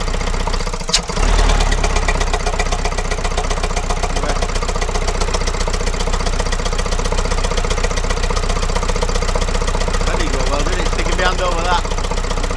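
A Vauxhall Vivaro 2.0 diesel engine idles steadily after injector replacement, with a loud constant rhythmic chatter running throughout while someone speaks briefly near the start.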